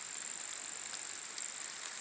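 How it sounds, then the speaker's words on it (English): Steady, faint hiss of light rain beginning to fall outdoors on a rural property, a continuous even patter with no talking. "Shoot, it's starting to rain."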